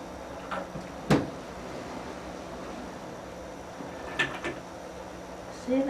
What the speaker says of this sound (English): Can you open that bottom drawer?